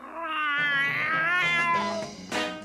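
A cat lets out a long, loud, drawn-out meow that bends in pitch, followed by a short second cry near the end, close and with no other voices, from the 1971 Sabrina the Teenage Witch cartoon.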